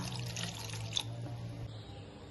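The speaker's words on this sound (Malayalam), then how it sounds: "കുറച്ച് വെള്ളം ഒഴിച്ചിട്ട് വേവിച്ചെടുക്കാം" Water is poured into a cooking pot holding gooseberries (amla) to be boiled for a chutney, a faint, brief splashing stream with a small splash near the start, then quieter trickling.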